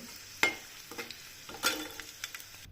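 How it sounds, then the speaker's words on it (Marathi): Onion frying in oil for a pea and mint pulao: a low steady sizzle broken by two sharp utensil clinks against the pan and softer stirring scrapes. "तर सुरुवातीला मी कांदा तळून घेते."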